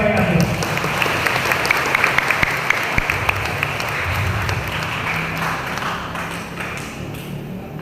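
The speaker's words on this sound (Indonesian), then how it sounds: "Tepuk tangan buat IKS Banyuasin." Crowd applause at a gathering for the installation of the IKS PI Kera Sakti Banyuasin branch, a steady wash of many hands clapping for about eight seconds, fairly loud, with a few sharper individual claps standing out.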